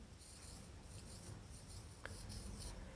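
Writing on a board during an English grammar lesson: soft, scratchy pen or chalk strokes in short bursts, faint and close, with a small tap midway and no speech.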